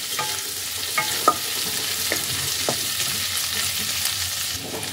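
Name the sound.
chopped ginger and garlic frying in oil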